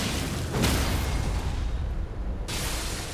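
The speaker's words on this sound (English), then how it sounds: "That delayed explosion" A delayed blood flame explosion from a weapon in Elden Ring bursts with a loud, noisy whoosh, followed moments later by a second sharp blast, with steady game noise throughout.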